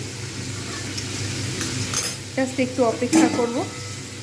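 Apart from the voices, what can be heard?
potatoes and snake gourd frying in oil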